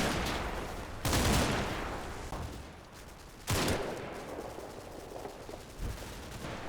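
Bursts of small-arms area fire in the Combat Mission: Red Thunder wargame, three sharp loud volleys spaced a couple of seconds apart, each trailing off into a reverberant rumble, with no talking.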